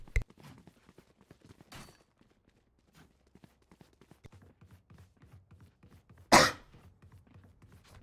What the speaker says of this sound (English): it's just me, I'm coughing. I have an asthma cough.